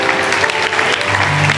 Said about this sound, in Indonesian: Kasih tepuk tangan untuk mereka semua, welcome home.